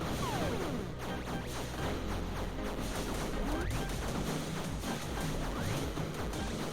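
Spread-shot gunfire from the Greif ship in the shooter Schildmaid MX, a dense continuous barrage of crashing, rattling impacts with occasional whooshing sweeps, loud and steady throughout.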